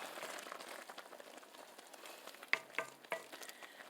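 Pepper steak gravy bubbling in a pot as it comes to a boil, a soft steady simmering crackle with a few sharper pops and clinks near the end.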